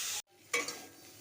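Capsicum frying in a pan gives a steady sizzle that cuts off briefly, then returns with a stirring scrape and a softer hiss, close and fairly quiet.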